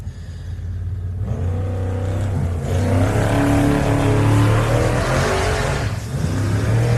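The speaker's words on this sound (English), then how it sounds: "Now Andrew Commons getting underway, the 467 entry, the white West Lime truck." An off-road race truck, the white West Lime No. 467 entry, pulls away at a 4x4 adventure park, its engine loud and close, rising in pitch and revving steadily as it gets underway.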